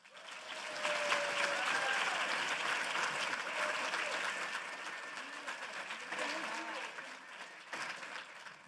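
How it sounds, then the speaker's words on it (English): Loud audience applause at a teacher of the year celebration, a dense wash of clapping that builds quickly and carries on steadily, fading a little toward the end. "Let's give Dima another round of applause for that"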